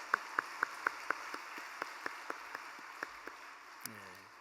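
A congregation claps at a Korean church's early-morning special prayer service. The claps fall in an even, quick rhythm and fade gradually from loud to softer, ending with a brief vocal sound.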